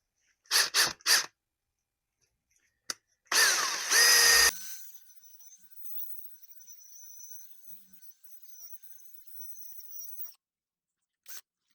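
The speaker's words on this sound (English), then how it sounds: "We're done cleaning it with the wire brush." Power wire brush scrubbing the brake hub and caliper of a 2019-2024 BMW 330i G20, heard as three short bursts and then one longer loud grinding burst. A faint high whine lingers afterward.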